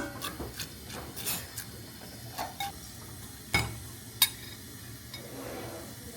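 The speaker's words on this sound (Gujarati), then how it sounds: "તો મિક્સ કરી દઈએ જ્યાં સુધી દૂધ ઉકળે ને ત્યાં સુધી થોડું થોડું" Utensil stirring sev in milk heating in a pot, with soft, irregular scrapes and taps against the metal and a faint low bubbling beneath, close but quiet.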